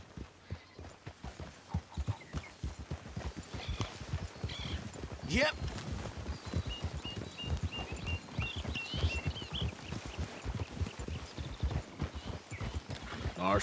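Rhythmic clip-clop of horse hooves in Red Dead Redemption 2, a steady, close trot running through the whole stretch beneath people talking, with a brief sharper sound midway.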